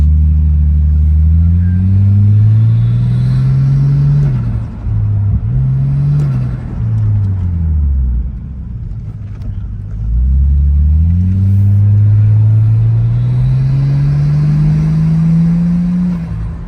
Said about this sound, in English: So we'll film a quick little pull and the dose at the moment on the car with the standard intake pipe